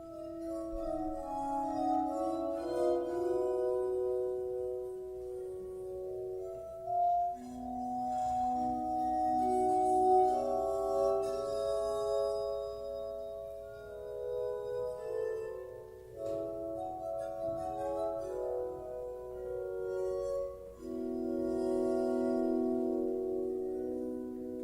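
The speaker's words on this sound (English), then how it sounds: "I'll give you a little example of how the glass harmonica looks and sounds." Glass harmonica played alone in a slow, sustained melody of pure, ringing bell-like tones that swell and overlap, with clear chord changes throughout.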